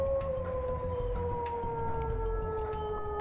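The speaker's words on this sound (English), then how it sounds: "Work until the siren." In the Shenmue video game, a siren marks the end of the work day. Its steady wailing tones sink slowly in pitch over a low pulsing rumble of machinery, sustained and moderately distant.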